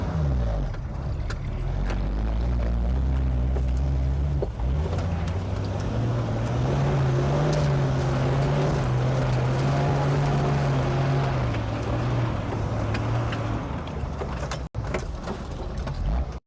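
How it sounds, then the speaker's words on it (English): A 36-year-old DIY Jeep in 2-wheel drive with aired-down tires pushing through deep sand, its engine droning loud and close, rising in pitch under load, then easing back, with a sharp knock near the end. "We're aired down and we're ready for our deep sand testing."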